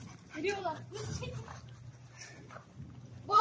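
Rottweiler puppies whimper and yelp softly nearby, mixed with footsteps and people talking over them.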